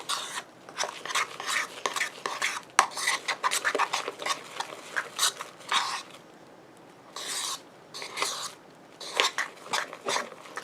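A spoon stirring a thick slime mixture of glue and foam in a bowl, close, repeated scraping and squelching strokes in an irregular rhythm with brief pauses.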